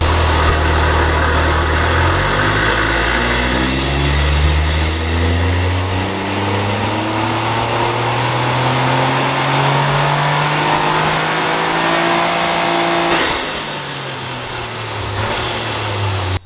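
A Toyota GR Yaris engine fitted with a cold air intake revs with the hood open, loud rising and falling sweeps climbing in pitch, then a sharp drop and a brief settle toward idle near the end.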